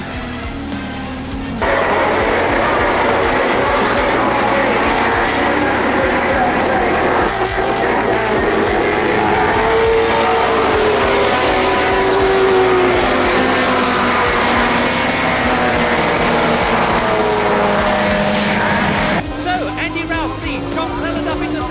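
BTCC touring cars race at Donington in poor conditions, their engines droning loud and steady with shifting pitch as cars pass, while a commentator talks over the noise throughout.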